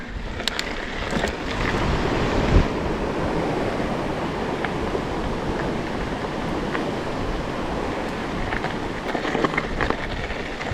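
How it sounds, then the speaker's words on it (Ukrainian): The Chernyk, a small mountain stream in the Carpathian hills near Manyava, rushes steadily and fairly loud, a continuous broad wash of flowing water with no voices. "Я думаю, що цей потічок називається черник"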